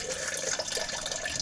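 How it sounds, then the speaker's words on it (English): Fluid drains from a Mazda Miata engine during teardown, coolant and oil running out in a steady close splattering trickle with no voices over it. "draining water, draining oil, drain trans fluid, because I'm betting we're pulling this motor out of here"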